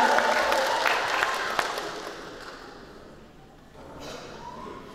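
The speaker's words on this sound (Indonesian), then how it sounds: "sekali lagi kita berikan tepuk tangan yang meriah" A crowd at a choir competition claps, fading gradually from a dense patter to scattered claps, with faint voices underneath.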